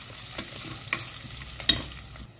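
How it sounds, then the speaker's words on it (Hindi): Curry leaves sautéing in oil in a pan over a low flame for lemon rice (chitranna), with a soft steady sizzle and a few brief scraping stirs, fairly quiet. "करी पत्ता और अब इसको ना हल्का सा सॉटे करते हैं, ज़्यादा बर्न ना करें"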